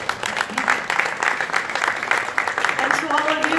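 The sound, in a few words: audience applause at a press conference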